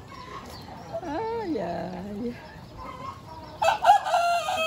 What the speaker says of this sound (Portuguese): Olha só as galinhas.